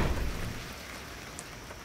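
Rain falls on a stormy night as a soft, steady hiss with a low rumble underneath, fairly faint and alone.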